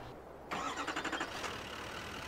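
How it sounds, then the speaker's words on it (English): A Chevy 1 ton dump truck's Duramax diesel in Farming Simulator 22 cranks in a quick rhythmic burst of pulses, then catches and settles into a steady idle, close and clear with no talking. "So let's get that Duramax fired on up"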